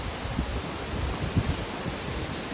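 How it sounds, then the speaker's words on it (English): Steady wind roars against the microphone at night during tornado watches, with constant broadband rushing and occasional low buffeting gusts, no voices heard. "It's a little windy here tonight"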